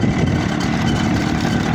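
A car engine hums steadily at a constant level while the vehicle drives along a rural road toward a town crossroads, its low mechanical drone filling the background with no speech.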